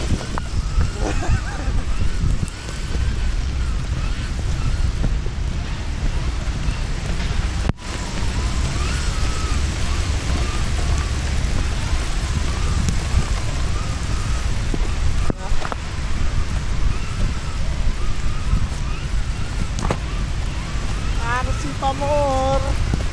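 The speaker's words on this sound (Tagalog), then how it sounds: "Lakas na ng ulan." Heavy rain pours down continuously outdoors at a university campus parking area, a loud, dense roar of drops with occasional voices underneath.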